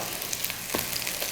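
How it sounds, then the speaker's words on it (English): Potatoes fry crispy in a pan for potato tacos, giving a steady close sizzle and crackle of hot oil with no talking over it. "Oh, we like that crispy frying."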